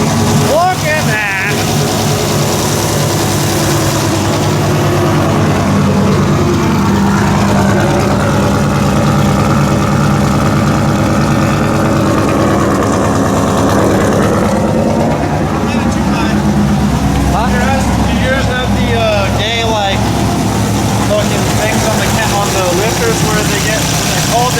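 A 6-liter LS engine swapped into a Nissan 240SX running after a head and cam swap, a loud continuous rumble that rises and falls with revving, with voices talking over it.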